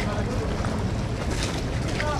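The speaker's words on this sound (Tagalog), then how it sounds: "Bakit lumakas yung alon? May dumaan." Strong sea waves slapping and washing against a small wooden boat, a steady rough wash of water and wind noise close to the microphone throughout.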